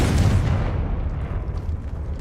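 A Confringo blasting spell in Hogwarts Legacy goes off as a loud, deep explosion, one booming burst that rolls into a rumbling, gradually fading roar.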